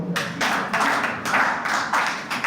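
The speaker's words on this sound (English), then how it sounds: "I thought somebody would clap for me" Scattered audience clapping at an industrial food processing park livestream, a short burst of uneven, moderately loud claps lasting a couple of seconds.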